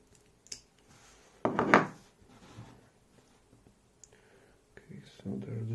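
An ASSA dp4400 (dp11) lock being cut open: a brief, harsh scraping burst with small clicks, fairly close and quiet, followed by faint handling noises.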